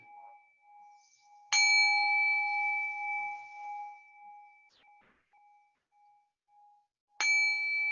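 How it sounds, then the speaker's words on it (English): A meditation bell struck twice, each a clear, bright ring with a sharp attack and a long shimmering decay, sounding close and alone in an otherwise quiet room. "I'm going to go ahead and ring the bell."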